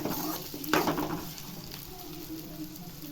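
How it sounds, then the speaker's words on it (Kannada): Coriander seeds, cinnamon and cloves fry in hot oil in a pan, a soft steady sizzle with a brief clatter of stirring near the start, fairly quiet and without talk. "ಇವಾಗ ಧನಿಯಾಕಾಳು ಮತ್ತು ಚಕ್ಕೆ ಲವಂಗ ಹಾಕ್ತಿದ್ದೀವಿ. ಸ್ವಲ್ಪ ಚೆನ್ನಾಗಿ ಫ್ರೈ ಮಾಡ್ಕೊಳ್ಳಿ ಎಣ್ಣೆಯಲ್ಲಿ."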